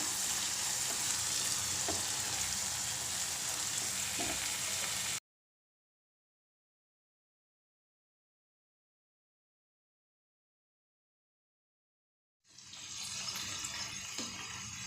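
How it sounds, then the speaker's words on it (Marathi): Bombay duck chilli stir-frying in a pan, a steady close sizzle with faint stirring for about five seconds, then silence, and the frying hiss returns near the end. "एक दोन मिनटं छान परतून घेऊया"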